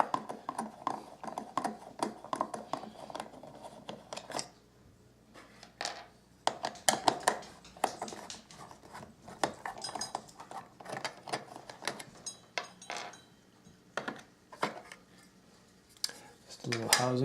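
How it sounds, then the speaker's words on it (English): Screws are removed from a Steam Machine gaming PC housing, giving close metallic clicks, small rattles and handling clatter throughout, with brief pauses between bursts. "So I'm going to unscrew all these screws."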